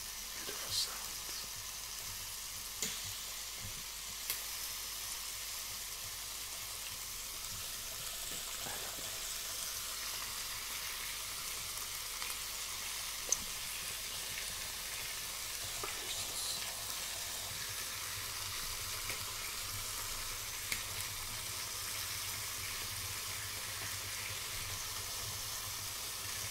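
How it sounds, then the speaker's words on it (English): Continuous sizzling and crackling of food cooking on a hot grill, broad and steady, with scattered light taps and pops throughout. "Sizzling."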